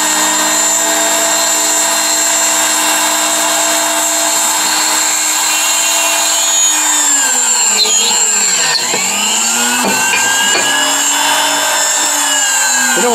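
A small Dumore drill press runs loudly and steadily with a high, whining motor hum, its pitch dipping and rising a few times as it slows and speeds up.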